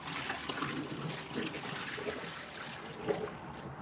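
Tap water runs steadily to rinse a small juicer part, a soft continuous trickle and splash with faint clinks as the piece is handled under the stream.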